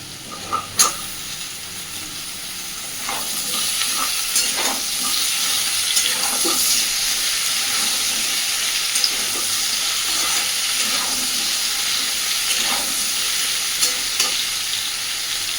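Sliced ridge gourd lands in a pan of frying potatoes and sizzles in a steady, bright hiss, with a few clattering stirs and scrapes punctuating the close, continuous frying.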